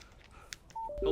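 A telephone in the Alan Wake video game gives short electronic tones, a pair of clean beeps and then a brighter burst, after near silence in a brief, quiet moment.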